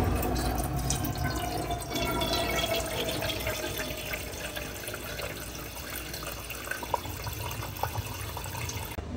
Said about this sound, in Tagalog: Ang una po natin gagawin ay lagyan ng tubig ang kaldero.